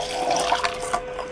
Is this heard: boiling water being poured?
yes